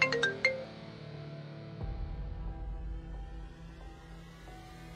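A mobile phone ringtone plays a short, bright melodic phrase at the start, then gives way to a low hum and background noise with no voices.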